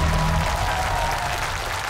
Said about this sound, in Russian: Это да, он и был. Да. Аплодисменты.